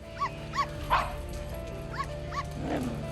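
Small dogs bark and yip in short repeated bursts at a dog grooming salon, fairly close, with a faint whimper between barks and no talking.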